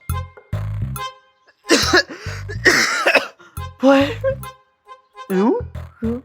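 Heavy, repeated coughing comes in several harsh bursts close to the microphone, with a voice speaking between and over the fits.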